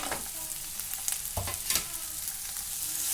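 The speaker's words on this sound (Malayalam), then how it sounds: "ഇത് ഒന്ന് നന്നായി വഴന്ന് വരുന്നിടം വരെ നമുക്ക് വഴറ്റി കൊടുക്കാം, ഇളക്കി കൊടുക്കാം." Tomatoes, cashews and onions sauté in a hot pan for paneer mutter masala, giving a steady close sizzle broken by a few scraping stir strokes, with no talking.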